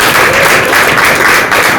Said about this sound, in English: a round of applause for the volunteers for what they've been doing